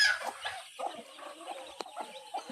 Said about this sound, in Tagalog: Oh, may mga manok si Yaya